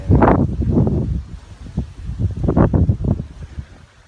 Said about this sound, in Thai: ลมพายุของโนอื่นเนี่ย มันแรงขนาดไหน